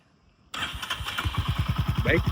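A 2025 Royal Enfield Hunter 350 motorcycle engine cranks and catches after a brief near-silence, then settles into a loud, rapid, steady thumping idle close by.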